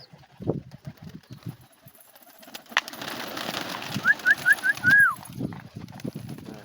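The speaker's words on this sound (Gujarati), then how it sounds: "આપણે બધા કબૂતર આવી ગયા દાણા ખાવા" Pigeons gather to eat scattered grain, with soft cooing and wing flutters amid light scuffling and faint background noise; a short rising call sequence stands out near the end.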